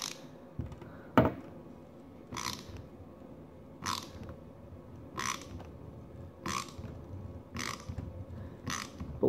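A hand-turned die cuts threads onto a custom boat propeller shaft for a Mud-Skipper Twister, a regular series of gritty ratcheting scrapes about every second and a half, close and fairly quiet.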